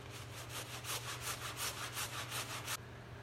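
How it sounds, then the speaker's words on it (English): A stiff brush scrubs tar-stained clothing in quick, even back-and-forth strokes, about a dozen rasping passes close by, then stops abruptly. "Got a brush here, I'm gonna do a little scrubbing,"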